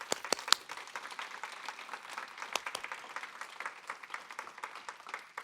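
A small audience at a petroleum pollution working group launch applauds, scattered claps building into a steady patter of moderate, fairly distant clapping.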